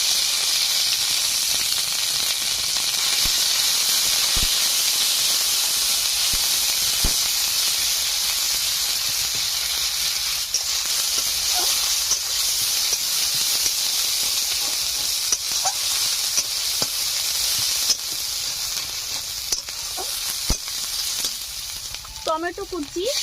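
Ginger, garlic and onion paste sizzles in hot oil with whole cumin seeds, a steady loud frying hiss running throughout with occasional faint stirring scrapes near the end.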